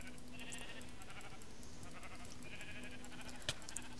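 Sheep in Minecraft bleat faintly in a couple of short wavering calls over a low steady hum, with no talk.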